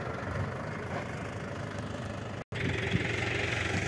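A Mahindra 575 XP Plus tractor engine idles at a fair at a steady, moderately loud rumble with a faint knocking texture, cutting out for a split second midway.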